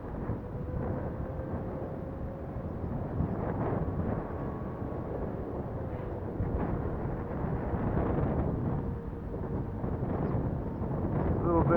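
Strong, gusty wind of around 15 mph buffeting the microphone at a model airplane flying field, a steady broadband roar with surges lasting the whole stretch.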